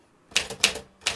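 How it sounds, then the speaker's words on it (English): Three crisp typewriter key strikes sound close and distinct, spaced unevenly, with no talk. "Typewriter"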